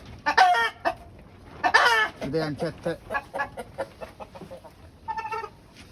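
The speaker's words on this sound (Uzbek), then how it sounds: "Juda ham katta jo'jalar" Large chicks and chickens cluck and squawk loudly and close by in bursts, mixed with someone talking between and over the calls.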